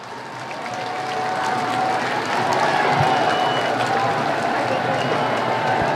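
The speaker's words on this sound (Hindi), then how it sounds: "ये देखिए तालियों की गड़गड़ाहट" Crowd applause at the Jhande Mela flag hoisting in Dehradun, a dense, steady roar of clapping and crowd noise that swells in over the first seconds and holds at a loud level.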